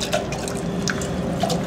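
Water is sprinkled onto foundry sand in a continuous light patter of drips and splashes, close and moderately loud.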